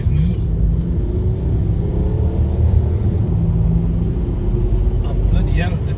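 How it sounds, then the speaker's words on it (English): Stage 1 tuned BMW E60 535d diesel under hard acceleration, a deep steady engine rumble heard from inside the cabin throughout. "I'm just going to put my foot down a bit and see how it moves"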